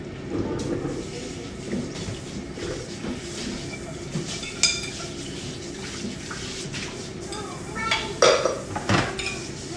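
Dishes, pots and pans being washed in a home kitchen after cooking, with clinking cutlery, knocking pans and running water in an irregular clatter at close range, peaking with sharper clanks near the end; a voice talks faintly at times.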